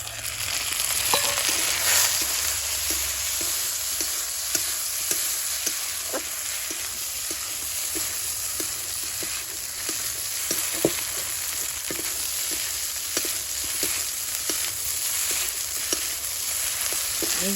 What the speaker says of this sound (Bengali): ভেজে নিচ্ছি সাবু ঘি দিয়ে।